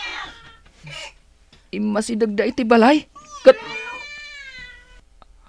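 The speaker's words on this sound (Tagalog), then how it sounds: "Dagiti nangisit a pusa." Black cats meow in short, high-pitched wails, one long drawn-out cry standing out clearly, mixed with people talking in a tense scene.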